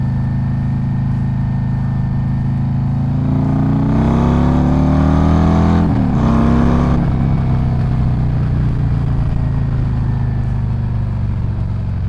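A 2024 Harley-Davidson Road Glide with a Screamin' Eagle 131 Stage 4 engine, loud and close, rumbling steadily then revving up through a gear change before settling back to a deep cruising drone.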